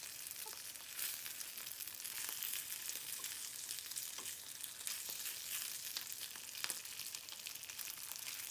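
Zongzi dumplings pan-frying until golden brown give a steady, close hiss of sizzling oil with scattered crackles and pops throughout, and no talk.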